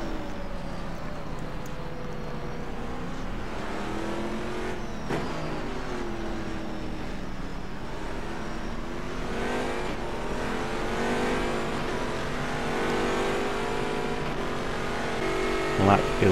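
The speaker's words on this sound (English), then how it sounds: "It's very, very easy to overdrive the car in rFactor 2." Race car engines in the rFactor 2 sim at Silverstone, racing in the dark, rise and fall through gear changes, with rival cars whining nearby and brief tire squeal; a commentator talks throughout.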